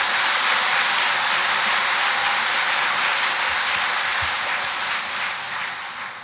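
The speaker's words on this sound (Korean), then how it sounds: "강사 목사님께 큰 박수로 환영해 주시기 바랍니다" A church congregation at a special worship service gives sustained, loud applause, a dense wash of clapping that slowly fades toward the end.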